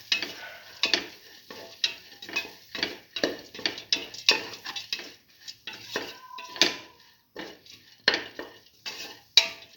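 Lentil and rice mixture being sautéed in a pot, a spoon scraping and clinking against the sides in steady, repeated strokes with a soft sizzle underneath, close and fairly quiet.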